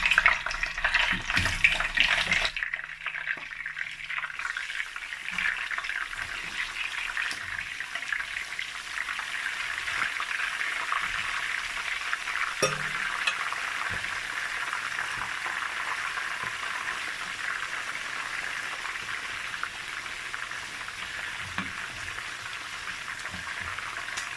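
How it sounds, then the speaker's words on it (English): Chicken frying in hot vegetable oil gives a steady, loud sizzle and crackle that continues throughout, with a few brief clatters near the start. "So now I'm going to fry the meat, hard chicken."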